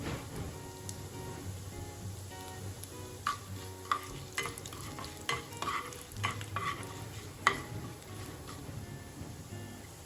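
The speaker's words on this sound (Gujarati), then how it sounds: "ત્યાર પછી હવે આપણે અડદની દાળ એડ કરીશું. એને પણ આપણે શેકાવા દઈશું." Urad dal and spices roast in a pan, stirred with a spoon that scrapes and clinks against the metal in irregular taps over a soft steady sizzle, quiet and with no talk.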